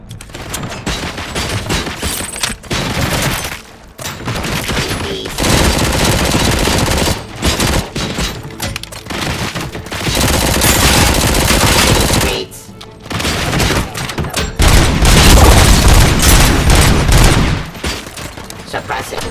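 Heavy automatic gunfire in the Robocop: Rogue City video game, long sustained bursts of rapid loud shots broken by short pauses, with brief talk mixed in.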